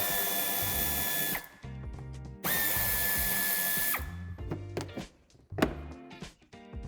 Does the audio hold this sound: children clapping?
no